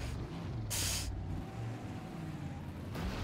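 Damaged car engine in the racing game Wreckfest, a steady low rumbling drone with bursts of hissing noise, struggling through gear changes in a demolition derby.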